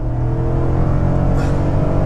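A 2015 GMC Yukon Denali with the 6.2L engine accelerates at full throttle, giving a loud, steady, deep engine roar heard up close from inside the vehicle.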